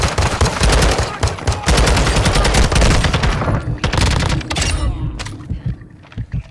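Video game gunfire rattles in rapid, close, loud bursts, with several overlapping weapons firing almost continuously before thinning into a few scattered shots and quieter tail.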